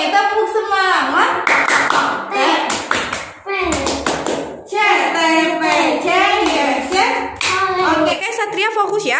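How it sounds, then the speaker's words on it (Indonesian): Children at a Quran reading class performing the tepuk semangat clapping routine, loud rhythmic hand claps in quick patterned bursts mixed with their chanting voices, close and energetic. "Lagi tepuk semangat."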